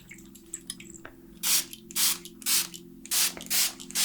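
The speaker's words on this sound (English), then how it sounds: "little bit of this aura mist, sealing everything in" An aura mist of oils and moon water sprayed in six short, evenly spaced hissing bursts close by, over a soft steady background hum.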